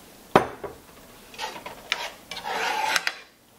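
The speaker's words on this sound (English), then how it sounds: "make sure that I stir it, and then I increase the heat again to high" A spoon scrapes and knocks around a pot of Nigerian egg stew in a few separate, close strokes, with short metallic clinks and rubbing sounds between quieter pauses.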